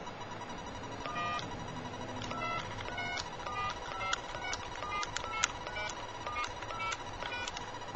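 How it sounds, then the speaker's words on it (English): A series of short, quick electronic dialing tones in uneven bursts over a faint, steady hum on a phone line. "You probably hear it dial."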